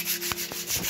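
Sandpaper rubs across a bicycle frame in a few quick scratchy strokes, close and fairly quiet, lasting under a second.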